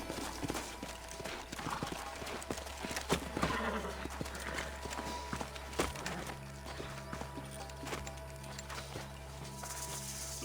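Horses clip-clopping along in the Red Dead Redemption 2 video game, steady hoofbeats running through the whole stretch under a busy layer of game ambience, with an occasional whinny and faint voices.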